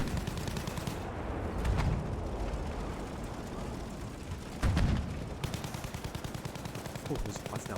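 Video game gunfire in a steady, continuous stream of rapid shots with a few heavier bursts, loud and dense throughout, without clear speech.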